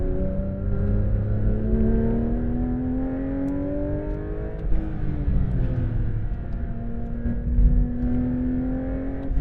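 Porsche 911 GT3 RS pulling hard in third gear on a racetrack, engine pitch climbing steadily with a brief dip at a shift or lift midway, then rising again; loud, continuous in-cabin engine roar, no voices.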